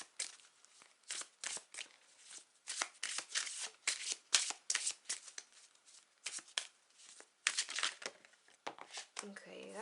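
A deck of oracle cards is shuffled in quick, crisp bursts of riffling and flicking, close and quiet, with short pauses between rounds.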